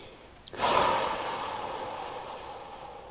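A single deep breath during guided meditation: a sharp intake about half a second in, followed by a long, soft exhale that gradually fades away.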